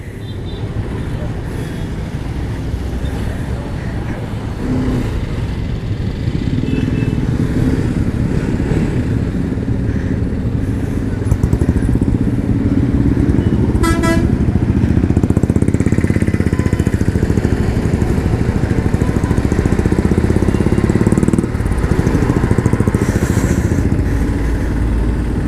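A group of 21 Apache RR310 motorcycles idles and pulls away on a ride near Laknavaram Lake, a steady layered engine drone throughout with brief voices over it.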